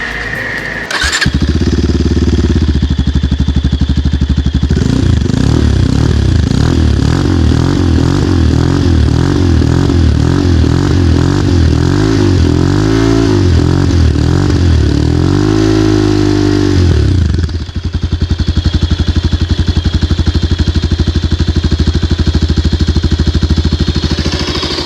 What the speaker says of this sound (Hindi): अब आपको इसका जो एग्जॉस्ट नोट है वो सुना देते